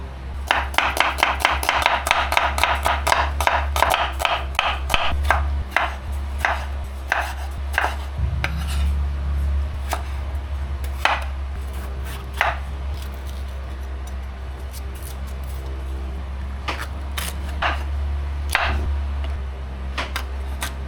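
A knife chops ingredients for chicken afritada on a board, starting with a fast, loud run of even strikes and then slowing to scattered single chops over a low steady hum, with no talking.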